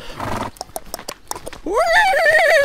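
A horse on a trekking trail in Brittany clip-clops with a few sharp hoof strikes, then lets out a loud, close, wavering whinny.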